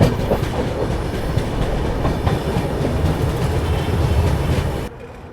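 A train rolls along the Kanpur bypass line with steady, loud clickety-clack of wheels over rail joints. The rumble continues for about five seconds, then cuts off abruptly.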